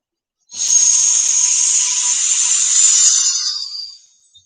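A steady high-pitched electric buzzer inside a vacuum jar as air is let back in starts abruptly, holds evenly for about three seconds, then fades away, heard alone with no talking.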